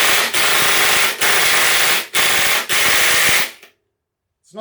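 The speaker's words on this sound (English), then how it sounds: "We'll see if we can remove the screw from the Hilti," A Ryobi impact driver hammers at a stuck screw in four loud, close, sustained bursts with short pauses between, then cuts to silence.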